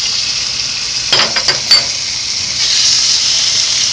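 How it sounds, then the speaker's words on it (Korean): Meat stir-frying in a hot frying pan with a little cooking oil, giving a loud, steady hiss of sizzling, with a few brief clatters of a utensil or the pan being moved partway through. "고기를 먼저 볶아야 되거든요."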